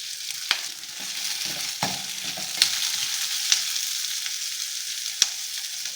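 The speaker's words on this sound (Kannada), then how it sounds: "ಈಗ ಇದೆಲ್ಲ ಫ್ರೈ ಮಾಡ್ಕೊಳ್ಳೋಣ ಕಂದು ಬಣ್ಣ ಬರೋವರೆಗೂ ಸ್ವಲ್ಪ ಫ್ರೈ ಮಾಡ್ಕೊಳ್ಳೋಣ" Curry leaves, cloves and cinnamon fry in hot oil with a steady crackling sizzle, punctuated by a few sharp spoon clicks against the pan as the spices are stirred.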